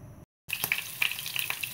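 Hot oil sizzles in a frying pan just used to fry vegetarian spare ribs, ahead of sautéing shallots. After a brief gap, a steady crackling sizzle follows with sharp pops scattered throughout, close and alone.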